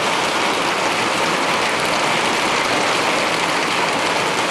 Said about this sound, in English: quick look at the rain.